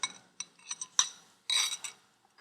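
A utensil stirs beaten egg white into coarse salt in a bowl for a salt crust around a fish, giving faint close gritty scrapes and light clinks in short, irregular strokes.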